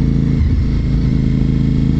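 A trike motorbike passes close by, its loud, low engine rumbling steadily with a slight clatter for a couple of seconds.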